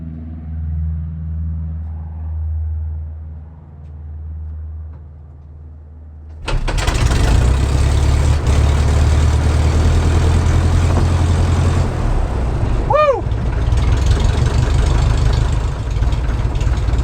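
A vintage light aircraft engine, an Aeronca Super Chief or Taylorcraft BC-12D, catches after quiet cockpit sounds and settles into a loud, steady idle with a brief rising whine midway.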